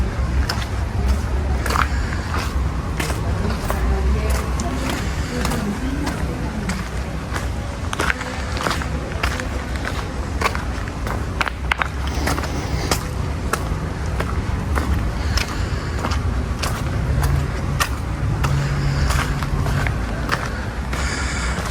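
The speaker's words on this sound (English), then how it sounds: "I like to walk on the cobblestones" Footsteps on a cobblestone street along a flower-lined walk in Puerto Vallarta, Mexico, a steady stream of close, gritty steps over a constant outdoor background.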